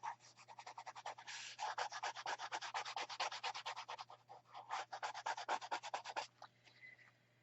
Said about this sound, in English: Just gonna burnish that down a bit onto that sticky surface. And I'm gonna rub away.